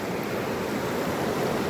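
A mountain creek along the Beartooth Highway rushes in a steady, dense wash of flowing water, loud and close, with no breaks and no voices.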